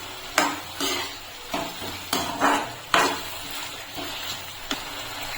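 A mixture made from leftover atta dough, with sugar and Maggi masala, is stir-fried in a pan. Rhythmic scraping strokes about every half second rise over a continuous close sizzle.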